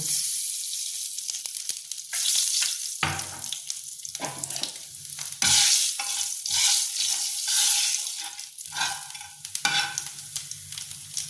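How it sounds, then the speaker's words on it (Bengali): Black cumin seeds tempering in hot oil left from frying hilsa fish heads, with bursts of sizzling and crackling and some stirring scrapes between quieter gaps, close and with no voices. "ওই তেলের মধ্যেই আমি কালো জিরে একটু ফোড়ন দেব।"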